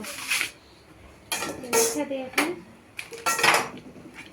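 Metal kitchenware, including a tawa griddle for frying parathas, clanks and rattles in several short bursts of handling, close by with quiet gaps between.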